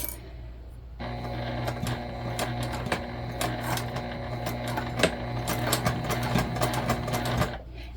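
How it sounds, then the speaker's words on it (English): A sewing machine stitches a fabric circle bag at a quarter-inch seam, running steadily and close up with a dense mechanical whir and rapid needle ticking from the first second almost to the end. "We're sewing this together at a 1/4 inch seam allowance."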